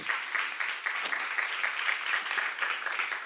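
Steady applause from a church seminar audience, dense continuous clapping filling the whole stretch at a fairly even, moderately loud level.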